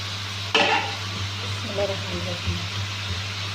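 Chicken browning in a karahi with a sharp utensil clank followed by a soft sizzle and occasional scraping, heard under a steady low hum as a person speaks.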